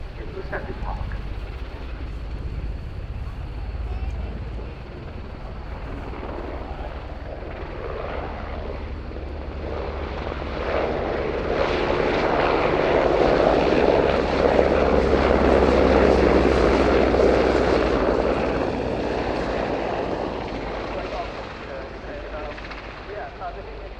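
Portuguese Air Force AW101 Merlin helicopter flying at an airshow, a steady loud rotor and turbine roar that swells toward the middle and stays continuous throughout.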